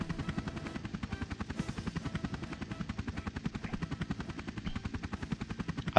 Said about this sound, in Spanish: aparecen los helicópteros